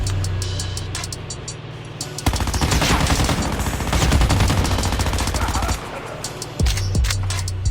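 Rapid automatic hip fire from an MX9 submachine gun in a shooter game, a dense sustained burst of close, loud shots with an engine rumbling underneath and a single shot near the end.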